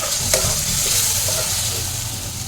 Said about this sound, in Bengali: এবার একটু জল দিয়ে মশলাটা ভালো করে কষিয়ে নেব।